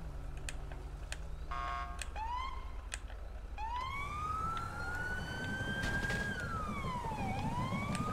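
Police car sirens wail and sweep up and down in GTA V Online, steady and loud over a constant low engine rumble, with short beeps early on before the rising, falling wail takes over.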